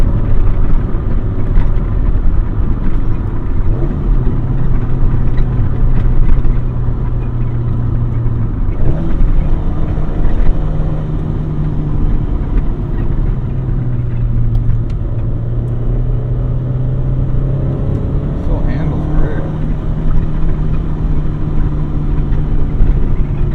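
A classic Acura from a Honda collection cruises on the road, engine humming loud and constant inside the cabin with gradual pitch changes as it shifts through gears, tire and road rumble beneath.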